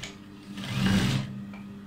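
A sewing machine stitches a side seam on a boutique garment, giving a close, steady whir that swells for a moment and then settles back, with no voices.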